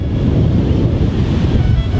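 Caribbean surf breaks loudly on a beach at La Perla, Puerto Rico, a constant roaring wash of waves mixed with strong wind buffeting the microphone, close and without speech.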